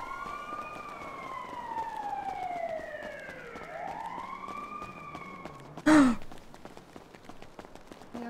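An ambulance siren wails in slow rising and falling sweeps, fairly faint and distant as if passing on a street, with a short loud bump near the end.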